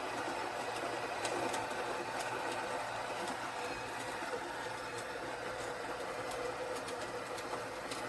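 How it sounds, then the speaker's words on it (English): The built-in burr grinder of a Breville BES870XL espresso machine grinds fresh coffee beans. It makes a steady, close mechanical whirr with a gritty rattle that holds at an even level throughout. "let's go ahead and just grind everything"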